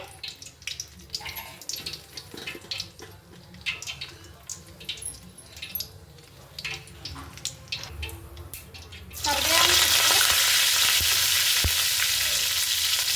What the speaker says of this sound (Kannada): ನೋಡಿ ಎಣ್ಣೆ ಇಟ್ಕೊಂಡಿದ್ದೀನಿ ಕಾದಿದೆ ಸಾಸಿವೆ